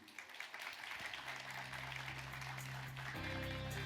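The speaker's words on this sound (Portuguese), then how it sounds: "Uma salva de palmas para vocês," Applause from an audience at a seminar runs steadily for about four seconds, moderately loud. A tonal hum or musical note sits beneath the clapping, and no one speaks.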